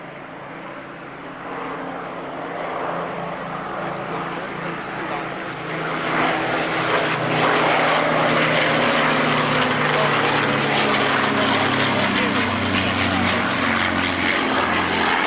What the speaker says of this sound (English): Running in from your left now, the Battle of Britain Memorial Flight.